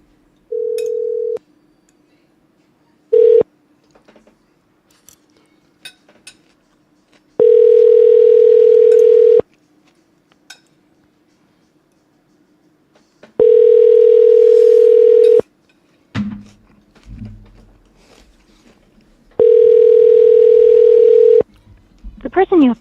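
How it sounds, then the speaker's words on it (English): Outbound telephone call tones: a steady ringback tone sounds in repeated long bursts of about two seconds, separated by quiet gaps with a low background hum and a few brief clicks and dial beeps. "So we'll do 2 dials, send over a text, then we'll dial them again."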